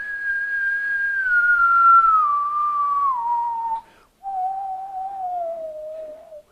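A person whistles a single sustained tone near 1,000 cycles per second, sliding steadily lower in pitch, breaking off briefly, then continuing down toward about 500; clear, close and alone.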